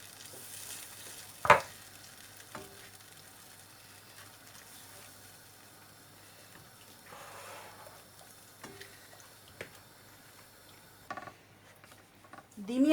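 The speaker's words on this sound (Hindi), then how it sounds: "तो अब इसमें डालेंगे इसको और इसको साथ साथ हिलाते जाएंगे, थोड़ा सा ये थिक हो जाए।" A spoon stirs white sauce for pasta in a pan over low heat, giving soft scraping and a faint sizzle with occasional sharper clinks against the pan, under a quiet voice.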